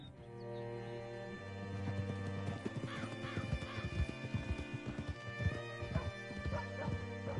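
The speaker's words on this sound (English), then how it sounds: "Hitch your horse up here." Horse hooves clip-clop in Red Dead Redemption 2, a steady walking rhythm of hoof falls beneath a soft musical score, with a neigh or whinny mixed in, moderately quiet throughout.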